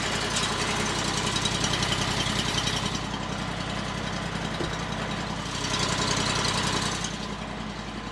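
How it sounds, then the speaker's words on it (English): A small Honda engine on a Mechmaxx 36 sawmill idles close by with a steady, rapid chugging thrum that wavers slightly in loudness but never stops. "a Honda engine for you. Started right up."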